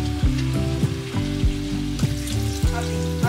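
Ginger sautéing in a hot pan gives a steady sizzle, with a few sharp clinks and scrapes from stirring against the metal. The sound is moderately quiet and there is no speech.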